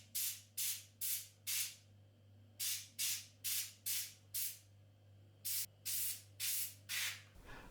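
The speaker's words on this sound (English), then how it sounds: "A good way to blow out the dust is to use a can of compressed air." Compressed air blasted from a can through the dusty radiator of an all-in-one CPU cooler: a steady run of short, loud, close hissing bursts in quick rhythm, pausing once midway, with a low hum underneath.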